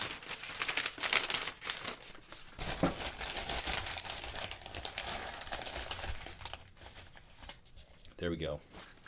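Paper is crumpled and stuffed into a freshly coil-built clay vase, giving a steady dry crinkling and rustling close up, with someone talking over it.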